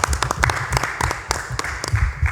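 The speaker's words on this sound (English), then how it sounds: "you should give yourselves a round of applause on that." Audience at a town board meeting applauding, a steady patter of many hands clapping at moderate loudness for the whole stretch, with faint voices mixed in.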